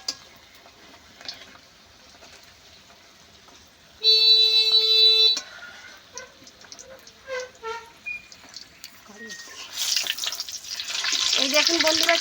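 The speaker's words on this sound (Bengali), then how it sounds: "উল্টে পাল্টে দুদিকে আমি ভেজে নিয়েছি" Vegetarian omelette frying in a hot pan and being flipped, giving intermittent sizzling with small pops and scrapes, a brief steady electronic tone partway through, and a louder, fuller hiss building toward the end, with no talking.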